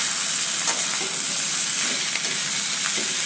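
Chayote peel sautés in a hot pan and is stirred, giving a loud, continuous sizzling hiss with faint scraping as it is mixed, close up and without talk.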